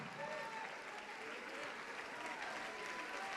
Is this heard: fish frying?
no